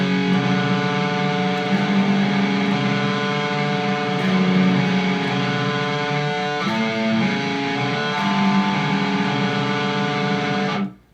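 A heavily distorted electric guitar grinds out a sustained, buzzing riff for about eleven seconds, loud and steady, then cuts off abruptly.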